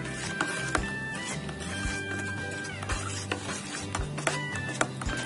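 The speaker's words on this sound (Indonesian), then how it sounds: "Kita aduk sampai pupuk ureanya larut ya." Urea fertilizer is stirred into water to dissolve it, giving a continuous close scraping, swishing rasp with a few sharper knocks against the container, all at a steady level.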